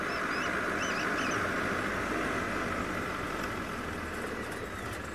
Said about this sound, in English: Franklins are shouting at us this morning.